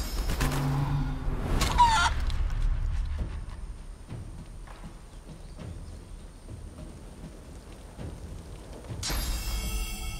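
A chicken clucks in the fantasy role-playing game Divinity: Original Sin 2, with a few clucks up front and then a long stretch of scattered soft in-game sounds before a louder burst near the end, with no talking.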